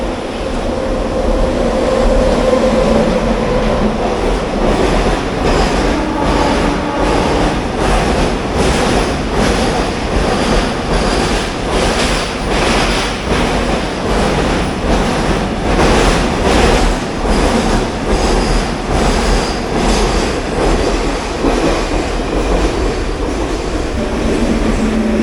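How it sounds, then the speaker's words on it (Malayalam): The Kannur–Yesvantpur Express rolls through a station close by, a loud, sustained rumble of wheels with rhythmic clatter from the passing coaches and occasional squeal, with no talking. "കണ്ണൂർ യശ്വന്ത്പൂർ എക്സ്പ്രസ് ആണ്."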